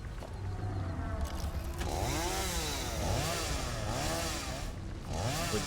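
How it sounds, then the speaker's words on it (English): A chainsaw in the video game Satisfactory revving and whining in wavering, rising and falling pitch over a droning engine, fairly close and steady, with no talk over it. "Can I get rid of this with a chainsaw by chance?"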